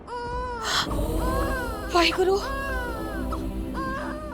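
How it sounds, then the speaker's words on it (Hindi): A newborn baby girl cries in sustained, wavering wails with rising and falling pitch, loud and close, as a person speaks over part of the crying. "बच्चा रोने की आवाज आ रही है ना?"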